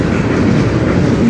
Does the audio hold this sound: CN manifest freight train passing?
yes